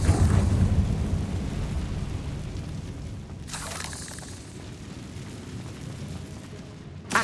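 A heavy, rumbling explosion blast from the Confringo fire spell in Hogwarts Legacy roars loudly and fills the whole stretch, easing slightly partway through before a sharp thump at the very end.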